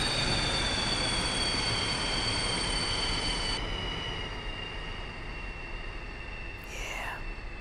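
A train thunders past in the Omsi 2 bus simulator on the Liberty/Saratoga route, a loud, close rumble with high metallic screeching tones. The noise eases midway, and a rising whine swoops in near the end.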